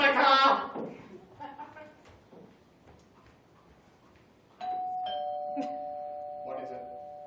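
A doorbell in a house rings, a sustained tone ringing out near the middle of the clip, with people talking before it.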